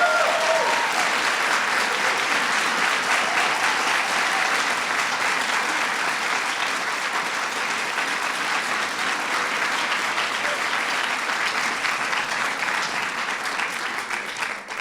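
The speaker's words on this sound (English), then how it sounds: "Give her a big round of applause." Sustained applause from a large audience at a formal Kennedy Center Honors reception, a dense, even wash of clapping that holds steady for about fifteen seconds and tapers slightly at the end.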